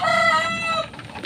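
A pet chicken gives a loud, close crowing call with a bright, harmonic tone that holds for nearly a second, then trails into softer clucks.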